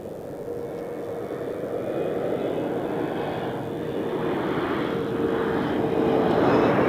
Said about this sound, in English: We have the CRJ of CityJet flying for Lufthansa.